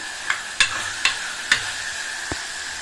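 Tomatoes frying in hot oil in a pan for a drumstick egg masala curry, a steady sizzle broken by a few distinct clinks of a spoon stirring against the pan.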